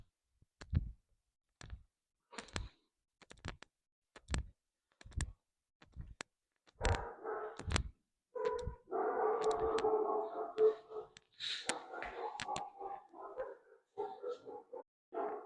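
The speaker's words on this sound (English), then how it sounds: "I'm not gonna edit out dog sounds like I used to try to get perfect sound." A dog in a house makes a series of short sharp clicks or yips at a steady pace, then a stretch of whimpering and muffled barking noises, fairly close.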